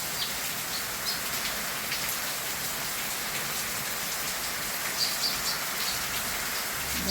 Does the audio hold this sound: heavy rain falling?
yes